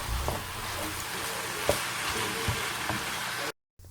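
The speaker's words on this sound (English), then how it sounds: "I then add my onions to my ground turkey while it's cooking." Chopped onions sauté with ground turkey in a hot pan, a steady close sizzle and crackle with a few stirring clicks, ending abruptly.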